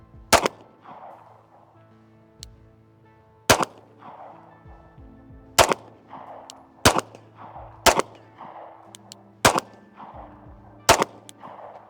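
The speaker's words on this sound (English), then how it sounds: "We're still only gonna shoot 5 to 7 rounds here," Handgun shots fired at a target during zeroing practice: seven sharp, loud reports spaced irregularly about one to two seconds apart, each followed by a short ringing decay, with no talking.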